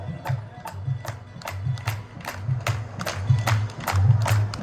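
An audience at a devotional gathering for Radha claps in steady rhythmic unison, about two claps per second, moderately loud and somewhat distant, with no talking over it.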